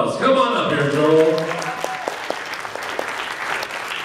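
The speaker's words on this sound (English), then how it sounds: "I want you to give him a big, big round of applause." An audience bursts into loud applause and cheering for the next singer at an anime idol contest, swelling early then thinning into scattered claps while a voice talks over the start.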